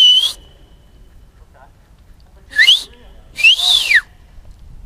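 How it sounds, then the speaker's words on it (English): Two loud whistled phrases, the second a long rising-and-falling tone, echoing in a gorge near Cape Town, against a quiet, low rumbling background, with a short whistle at the very start. "The whistle echoes in the gorges here"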